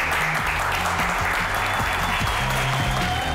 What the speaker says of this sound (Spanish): me parece un gran aplauso